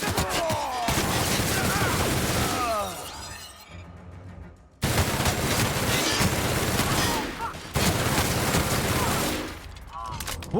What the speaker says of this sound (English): I'm taking a lot of bullets.